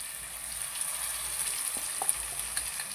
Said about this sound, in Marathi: आता आपण हे चांगले परतून घेऊया